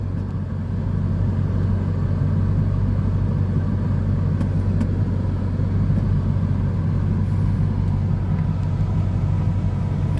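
A Chevrolet Corvette C5 engine idles after an air-conditioning refrigerant recharge, giving a steady, close, low rumble that holds unchanged throughout with no talking.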